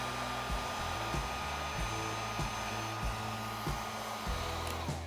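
A heat gun set on high blows steadily to shrink heat-shrink tubing over a wire, a continuous loud whooshing hum with a motor tone and faint periodic dips, close and alone.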